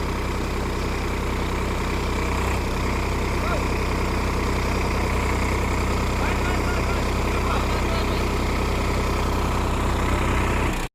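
A Sonalika tractor engine working to reverse out of deep mud makes a steady, loud, low drone throughout, with voices faintly present.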